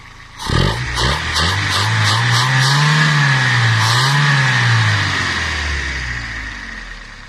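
Fiat Uno engine idling and revving on LPG, running without an air filter, with a sharp initial blip, then repeated rising and falling revs, loud and close, settling back toward idle.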